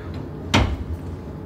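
A coat closet door in a hotel room at Trump International Hotel & Tower Chicago shuts with one quick, fairly close thud against a quiet room background.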